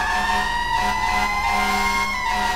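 Siren wailing from a fire truck stolen in GTA 5, steady and loud with a rising and falling tone, engine rumble beneath, no talking.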